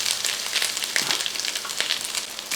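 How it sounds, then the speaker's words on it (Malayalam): Grated coconut is stirred in an uruli, a traditional Kerala bronze vessel, giving a continuous dry crackling sizzle broken by quick scraping strokes, close and fairly loud throughout. "തേങ്ങാപ്പീര ഇട്ട് ഒന്ന് ഇളക്കി"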